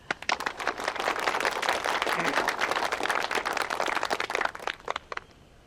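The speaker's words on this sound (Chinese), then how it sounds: "大家鼓掌" A gathering of soldiers and villagers breaks into hearty applause, dense clapping building quickly and holding steady before tapering off into a few scattered claps.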